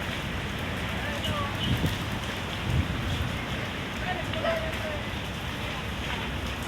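A fire burns near a junk shop in a residential area, giving a steady crackling, rain-like roar at moderate distance, with people talking over it.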